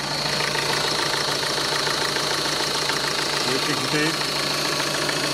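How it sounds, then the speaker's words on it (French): A Renault Scenic engine idles with a steady, dense mechanical hum close by, while someone briefly speaks over it. "Là, vous pouvez entendre le moteur"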